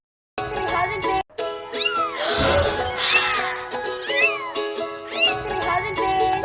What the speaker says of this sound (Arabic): جابت 7 قطط بيبي